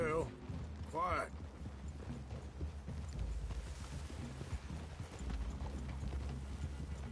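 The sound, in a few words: horses' hooves clip-clopping in a video game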